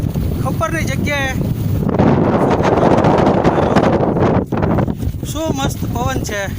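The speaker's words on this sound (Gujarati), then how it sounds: "શું મસ્ત પવન છે" Strong wind on Girnar mountain buffets the microphone in a loud, roaring rush that swells and drops, with voices talking nearby before and after the heaviest gusts.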